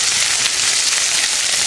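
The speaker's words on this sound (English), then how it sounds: "And now we just gotta let it sizzle a bit." Food fries in a pan with seasoning, giving a bright, steady sizzle that hisses continuously and fairly loudly, close up with no talk over it.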